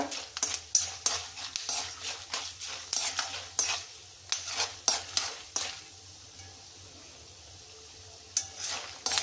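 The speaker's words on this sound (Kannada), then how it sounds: "ಹುಣಸೆ ಹಣ್ಣು ಚಟಪಟ ಅಂತಿದೆ. ಚೆನ್ನಾಗಿ ಫ್ರೈ ಆಗಬೇಕು ಕಡಲೆಕಾಯಿ ಬೀಜ" Tamarind and peanuts fry in a pan for tamarind gojju, with close, irregular crackles and repeated scraping stirs against the pan, easing into a quieter sizzle for a few seconds before the stirring picks up again.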